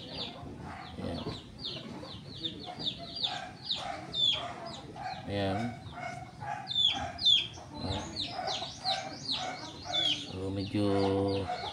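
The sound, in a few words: chicken clucking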